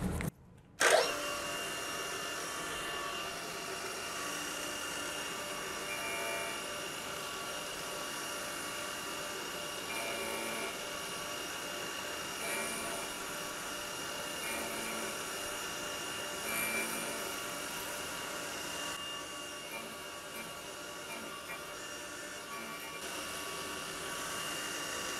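A CNC mill cuts small stainless steel parts with a 6 mm carbide end mill spinning at 3000 RPM, making a steady, dense machining whine with a faint tonal edge that runs unbroken for the whole stretch after a brief start.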